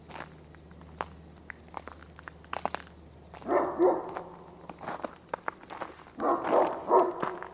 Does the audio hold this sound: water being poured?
no